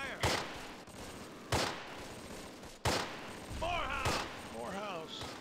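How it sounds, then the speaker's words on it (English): Gunfire from the Close Combat Panthers in the Fog war strategy game rings out in three sharp, loud shots spaced about a second apart, followed by a sustained crackle of battle noise with whistling sounds overhead. "We're under heavy fire."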